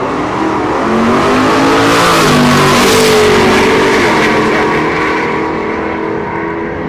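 Drag race launch between a 1972 big-tire Chevrolet Nova and a 1968 Nova at a dragstrip: loud, sustained engine roar with rising revs that swells and holds, then slowly fades as the cars pull away.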